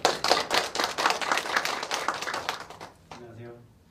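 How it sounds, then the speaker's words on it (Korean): Audience at a public lecture greeting a speaker with applause: a burst of many hands clapping, loud at first and gradually thinning, that gives way to a murmuring voice near the end. "우리 김익준 교수님을 뜨거운 박수로 맞아주십시오"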